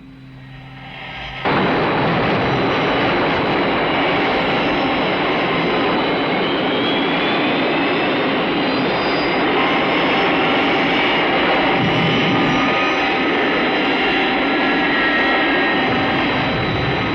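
Aircraft coming in to land, a loud, steady roar of engines that swells in abruptly after a quiet opening and holds near and continuous, with no talk.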